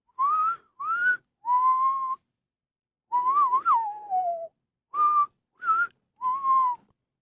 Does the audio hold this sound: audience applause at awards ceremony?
no